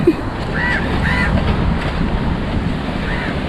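A few faint crow caws, three short calls spaced apart, ring out over steady surf and wind noise by the sea in Muscat, Oman.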